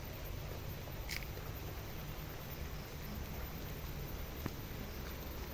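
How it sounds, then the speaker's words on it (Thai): Light morning rain falls over a natural fruit and vegetable garden, making a steady even hiss with an occasional soft drip and no voices. "ฝนตกยามเช้าจ้ะ"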